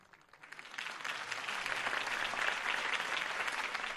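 A crowd at a political rally in Batman: The Telltale Series breaks into applause, swelling from quiet into dense, sustained clapping and cheering.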